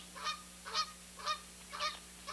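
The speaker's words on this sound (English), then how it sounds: "Here comes Jonathan the Talking Goose." A goose named Jonathan honks five times in an even rhythm, the calls close and clear over a quiet background with a low steady hum.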